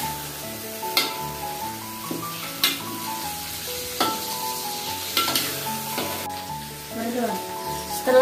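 Spice paste (bumbu) for curry laksa frying in a pan, a steady sizzle with stirring scrapes and clinks, while music with a clear melody plays over it.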